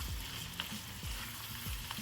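Solyanka ingredients frying in a pan, a steady close crackling sizzle with a few stirring scrapes, no talk.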